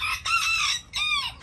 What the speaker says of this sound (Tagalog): Ayan ang mga Serama chicken.